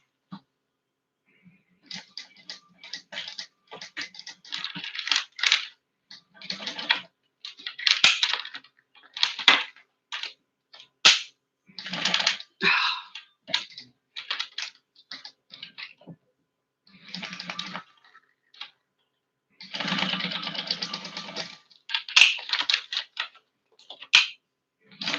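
A home sewing machine top-stitches across one end and up the side of a fabric travel pouch sewn with glide thread, running in many short, stop-start bursts and ticking runs with a longer stretch near the end.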